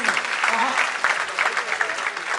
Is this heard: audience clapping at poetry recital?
yes